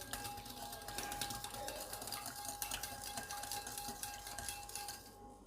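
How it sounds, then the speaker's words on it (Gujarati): Sugar, water and a pinch of orange food colour stirred together in a pan while making an eggless orange cake, giving quiet, continuous scraping and clinking of a spoon against metal, close and soft, with no voices. "બધી જ વસ્તુને સારી રીતે મિક્સ કરીશું, જ્યાં સુધી સુગર મેલ્ટ ના થઈ જાય ત્યાં સુધી."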